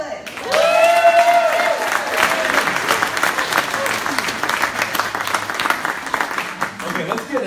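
Sustained applause from a live audience at the Austin Super Saturday 2018 kickoff event, a dense wash of many hands clapping for several seconds with some cheering, and a voice briefly heard near the start.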